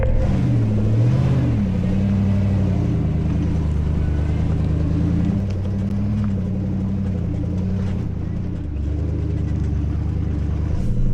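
A Jeep Gladiator with a 5.7 Hemi engine climbs a dirt trail in the Ozarks in four-high, its deep engine rumble loud and steady throughout, with the pitch rising and falling as it pulls up the hill.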